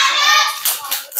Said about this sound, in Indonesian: Beri tepuk salut kepada kelompoknya Mas Rafif.